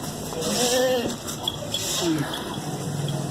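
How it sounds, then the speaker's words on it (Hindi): A goat bleats nearby at a livestock market, a wavering cry followed by a shorter bleat, while someone talks over it outdoors. "ये बकरी है, ये इसका बच्चा है"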